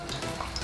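Bananas for tostones sizzle and crackle steadily in a hot frying pan, close up, with no one talking.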